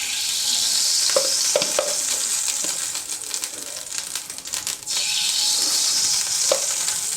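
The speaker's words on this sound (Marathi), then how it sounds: "पीनट बटर चिक्की बनवण्यासाठी पॅन ठेवलेला आहे, गरम झालेला आहे. त्याच्यामध्ये आपण 2 टेबलस्पून आपण तूप टाकणार आहोत." Two tablespoons of ghee hitting a hot pan, a steady bright sizzle and crackle held close throughout, with a few soft clinks of a utensil and no voices.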